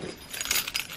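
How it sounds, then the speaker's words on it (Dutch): A set of keys jangles close by in a short burst of bright metallic clinks and rattles, a few quick shakes with no speech, as someone gets ready to leave home. "Ik heb mijn sleutel nog gedaan."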